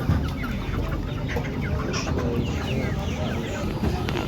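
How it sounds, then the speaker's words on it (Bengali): Chickens clucking close by at an outdoor barbecue gathering, soft repeated calls scattered through steady background noise and low voices of people talking. "ওই তো মুরগি"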